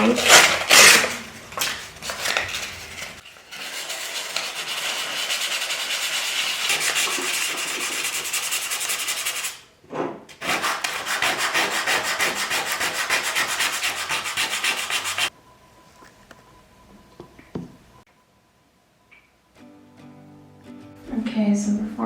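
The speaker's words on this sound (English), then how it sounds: "Now I wanted to sand them a bit down to remove all the marks" Handmade wooden pieces are sanded by hand in long, steady, close rubbing strokes, with a short break between passes. Later there are quieter knocks and handling sounds.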